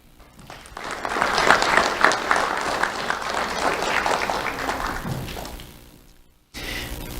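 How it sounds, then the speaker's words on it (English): A crowd at a sheriff's office awards ceremony breaks into loud applause that swells, holds, then tapers off before a brief cut to more room noise. "Let's have a round of applause for Davon Ruffin."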